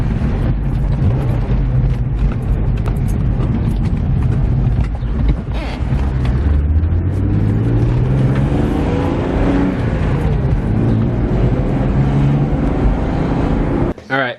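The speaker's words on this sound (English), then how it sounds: "So now we're gonna go for a drive." A BMW E36 car with an electric fan setup, heard driving with a loud steady engine drone and rising and falling pitch as it shifts through gears, recorded close and continuous.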